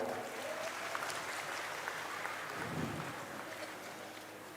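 Faint, steady applause from an audience at a school anniversary and graduation ceremony, a continuous distant wash of clapping with no voices standing out.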